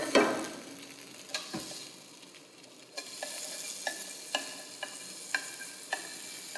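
Glass noodles for japchae stir-fry in a pan with a low continuous sizzle, while a utensil scrapes and taps the pan in sharp, regular knocks roughly every half second.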